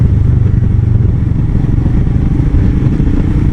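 A 2019 Royal Enfield Himalayan motorcycle being ridden, its engine a loud, steady low drone with a rough, thumping texture that holds evenly throughout, with no voices.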